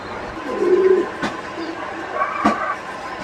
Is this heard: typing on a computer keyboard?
no